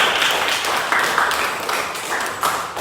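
Applause from a classroom of students, a steady wash of many hands clapping at close range that holds for about three seconds.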